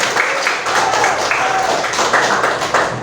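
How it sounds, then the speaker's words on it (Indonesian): Students in a classroom clap briefly on a teacher's prompt, a close, uneven patter of hands with some talking mixed in. "tepuk tangan untuk semuanya"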